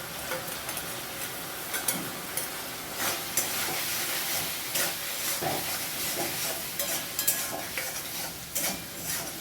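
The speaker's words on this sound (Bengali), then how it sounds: "পোস্ত বাটাটা দিয়ে 2 মিনিট কষিয়ে নিয়ে" Poppy seed paste being stir-fried in a pan for a spiny gourd dish, with steady sizzling and repeated scraping stirs of a utensil against the pan, moderately close, no talking.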